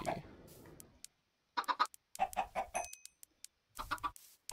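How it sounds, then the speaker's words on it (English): Several chickens cluck in short, separate bursts with brief silences between them, close and fairly clear, in a video game. "Hello, chickens."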